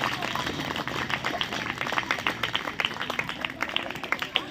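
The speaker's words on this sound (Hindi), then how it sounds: "ताली तो जोर से बजाए और जितनी बार बजा सको" A crowd at a personality-development talk claps loudly and steadily, dense overlapping handclaps filling the room for several seconds with faint voices underneath.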